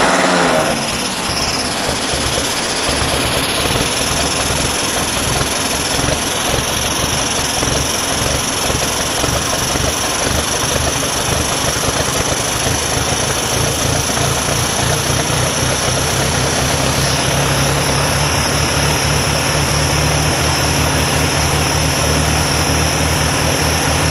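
A wood gas tractor engine running rich on gasifier fuel, a steady loud drone with rhythmic low pulsing that holds throughout, close by and with no talk.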